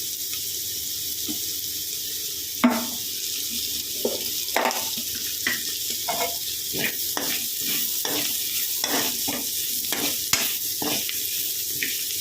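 Native broad beans frying in a pan for a curry, a constant hissing sizzle broken by frequent stirring scrapes and knocks, close by with no talk.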